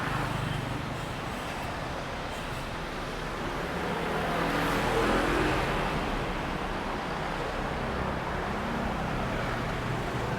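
Steady street traffic near Tha Phae Gate in Chiang Mai, a continuous broadband roar of passing cars and motorbikes that swells slightly midway, heard at moderate distance with no clear talk.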